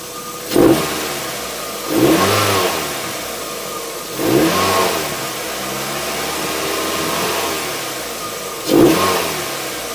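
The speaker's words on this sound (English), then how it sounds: "Let's give it a little rev up." A Mazda MX-5 Miata NB with a K&N air induction kit revs repeatedly from a steady idle, four loud close-up engine swells rising and falling over the drone, with no talking.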